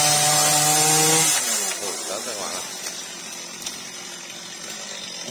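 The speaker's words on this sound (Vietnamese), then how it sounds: "anh giờ anh đang giật máy cưa các bạn" A chainsaw runs near a rain tree in a field beside bamboo gardens, its loud steady engine drone cutting off after a second, then someone talks over faint rustling.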